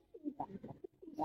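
Giribaz high-flyer pigeons coo in a repeated run of soft, low, throaty calls, close by and alone with no talk over them.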